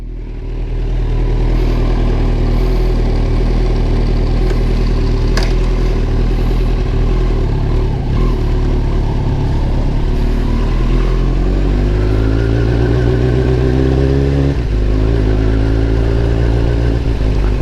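A fully modified Kawasaki Z900 motorcycle fires up loud and near, its engine droning as it rides off, pitch climbing and dropping through repeated gear changes over a steady throaty roar.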